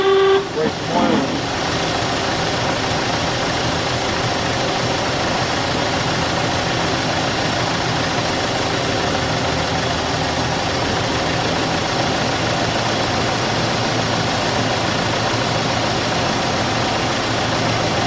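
A crusty old Ford 8N tractor engine runs steadily after startup, a continuous loud idle with an even rumble held throughout, and a brief sharp noise near the start.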